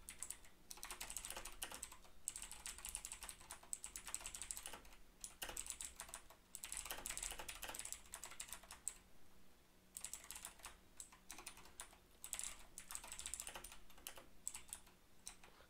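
Computer keyboard keys clatter in quick bursts of typing while a Roblox script is written, faint and close, with short pauses between runs of keystrokes.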